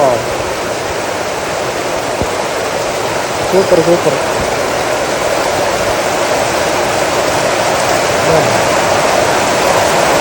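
Steady broadband hiss of rain falling through forest foliage, continuous and enveloping, with a brief voice speaking partway through.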